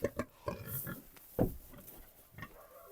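A pig grunts and oinks several times in short snorting bursts, close by, against a quiet background.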